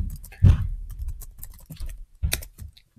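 Typing on a computer keyboard to enter a cheat in the game Cookie Clicker, a quiet irregular run of close key clicks with a few firmer presses.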